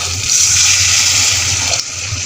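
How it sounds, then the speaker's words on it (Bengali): Water pours steadily into a pot of beef tongue being cooked with garlic, a loud continuous splashing rush close by that cuts off briefly near the end. "এখন আমি দিয়ে দিব পরিমাণ মতো পানি"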